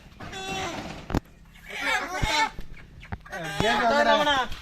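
Native country chickens clucking in a run of short, rising and falling calls, fairly close, with a few sharp knocks between them.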